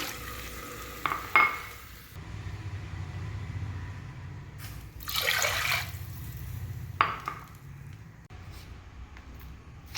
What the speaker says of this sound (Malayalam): നമുക്ക് വെള്ളം ചേർത്ത് കൊടുക്കാം. 1 കപ്പിന് 2 കപ്പ് വെള്ളമാണ് ഞാൻ ചേർക്കുന്നത്.